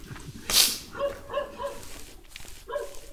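A dog barks several times in a room, moderately close, with a louder burst near the start and a few shorter barks spread after it, while faint background noise continues.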